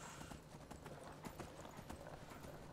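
Horse galloping in the Skyrim video game, a quick steady clip-clop of hooves throughout, fairly faint and even, with a voice speaking over it.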